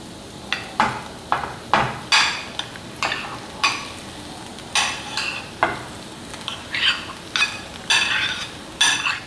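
A spoon stirs boiled potato into a chicken cutlet mixture in a pan, giving repeated scraping, clattering strokes at an irregular rhythm, close and fairly loud with no talking.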